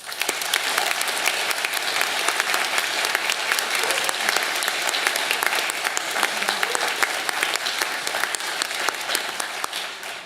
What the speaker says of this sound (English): please join me in a round of applause as we congratulate today's graduates